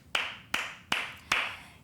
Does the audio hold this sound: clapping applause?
yes